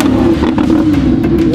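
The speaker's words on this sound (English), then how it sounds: "Give me some revs." A Lamborghini with an F1-style gearbox revs up close and loud, a steady harsh engine roar holding throughout with faint clatter.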